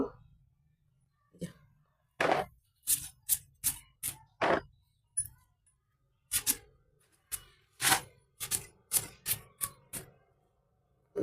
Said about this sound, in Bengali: মিষ্টি কুমড়াগুলো কেটে নিচ্ছি